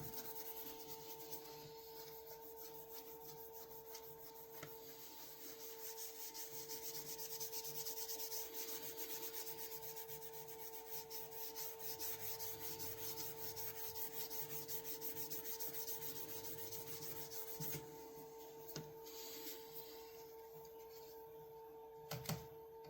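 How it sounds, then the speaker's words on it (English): Polish being rubbed by hand onto the restored handle of an old Hammer Brand Camper knife, a steady soft rubbing and scuffing that runs continuously and fairly quietly over a faint constant hum, with no talking. "just dab some on and give it a rub"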